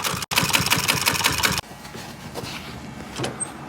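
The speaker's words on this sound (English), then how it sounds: "And now we can sew on the small blue side." A sewing machine stitches pontoon boat seat upholstery in a fast, even run of needle clatter, close and loud, then stops abruptly, leaving quieter room noise and a few soft handling sounds.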